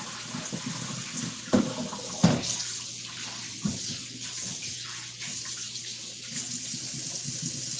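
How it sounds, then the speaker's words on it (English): Cold water pours steadily off a pot of boiled sweet potatoes into a kitchen sink, a continuous rushing splash with a few louder clanks of the pot near the start. "is pour the cold water off"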